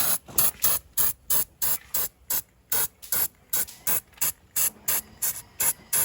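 Spray paint remover sprayed from a can in quick regular bursts, about three per second, each a loud close hiss with short gaps between, no talk.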